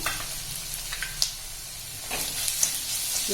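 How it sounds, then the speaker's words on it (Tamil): Onion sautéing with ground chana dal and fennel for snake gourd usili, a steady soft sizzle with occasional stirring clicks, close and fairly quiet. "சேர்த்து நல்லா வதக்கிக்கலாங்க"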